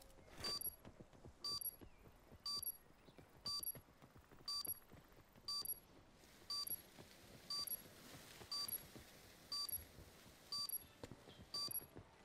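Active bomb in Call of Duty Black Ops 4 beeping in a regular rhythm of short, high electronic double beeps about once per second, fairly faint and clear above quiet background game noise.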